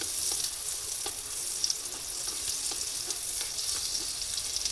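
Butter fries in a large pan, giving a soft, steady sizzle with faint crackles and light stirring clicks throughout, nobody speaking.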